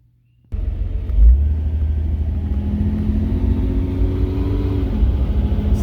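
A 1999 Lamborghini Diablo SV replica starts off after a short silence, then a deep engine rumble holds steady and near, with a faint rising tone partway through as it drives.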